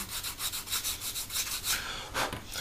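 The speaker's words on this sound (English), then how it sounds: "So we've got a little bit of sanding to do where it's come off the sprue." Fine rhythmic rubbing at close range, quick back-and-forth scrapes of sandpaper on a small hard plastic part from a Hasegawa 1/48 F/A-18F model kit, where it came off the sprue, soft and steady.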